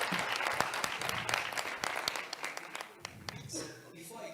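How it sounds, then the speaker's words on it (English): Applause from the audience at a networking social for the cultural and creative industries, steady clapping with a few sharp individual claps, tapering off toward the end with faint voices underneath. "I think we need to give a round of applause to the previous performer again."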